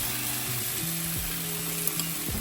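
Masala frying over sautéed onion, garlic and tomato for a masala prawn curry, a steady close sizzle with no talk and faint tonal hum running underneath.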